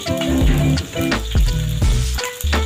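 Fried rice sizzles in a pan while a utensil scrapes and clanks against the metal, loud and close, with bursts of stirring and brief pauses.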